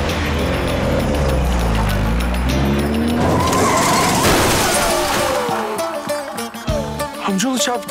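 A car revs hard and brakes sharply with tires skidding and squealing, followed by a crash-like impact, loud and close, with background music and voices around it.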